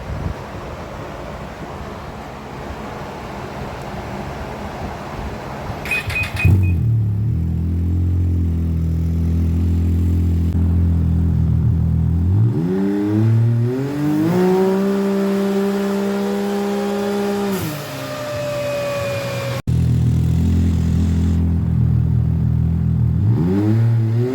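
Saab 900 turbo engine on a stage 3 Turbo Dynamics tune with a TD muffler, idling loud and close, then revving hard through rising and falling sweeps with wind noise across the microphone.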